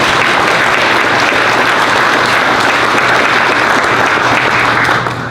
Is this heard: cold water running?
no